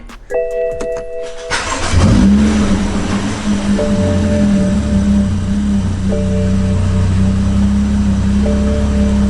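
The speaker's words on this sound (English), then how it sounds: "So now we're gonna go ahead and turn on the car, make sure that's not misfiring anymore." A BMW F30 335i with an N55 engine and newly fitted colder spark plugs cranks briefly, catches, and settles into a steady, close idle, with a chime repeating faintly in the background.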